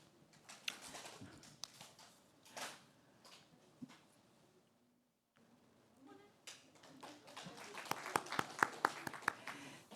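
A church congregation at a Korean Sunday worship service claps in bursts, with a brief hush midway before a louder, quicker round of applause near the end.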